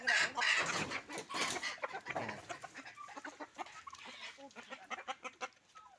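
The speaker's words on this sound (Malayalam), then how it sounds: "റെഡും ചാരയും കൂടിയിട്ടുള്ളൊരു പൂവനാണ് ഇത്" A red-and-grey country rooster with a broken tail clucks in short repeated bursts, fairly close, over a background of other birds and farmyard noise.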